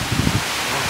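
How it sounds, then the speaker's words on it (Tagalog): Strong typhoon wind during a signal 3 storm in Aklan roars as a steady, dense rush of noise with a slight gusty flutter, close and loud throughout the brief moment. "Ang lakas ng hangin."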